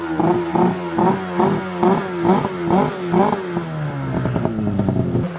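A race snowmobile engine runs on race gas, loud and close, with rhythmic pulsing revs about every half second before settling into a rougher, faster burble near the end.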